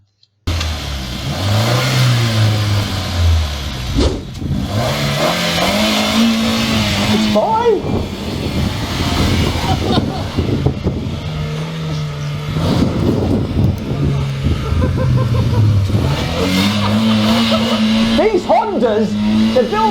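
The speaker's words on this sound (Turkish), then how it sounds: "İki dakika boyunca elektrik kese kese yağsız susuz çalışan Honda ve şimdi sürüyor arabayı." A Honda car is driven after its engine was run without oil or coolant. It is loud and close, revving repeatedly, with the engine pitch rising and falling in waves over a rough, strained drone.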